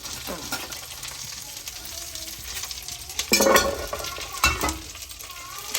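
Coriander seeds, cumin and fenugreek frying in a pan for gongura pickle, a steady close sizzle broken by louder bursts of stirring and scraping around the middle and later.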